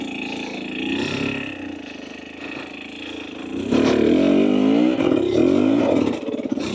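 Husqvarna TE250 TBI dirt bike with an FMF Turbine Core 2.1 exhaust idling off-road, a steady mid-pitched thrum close by that swells louder partway through, with faint voices underneath.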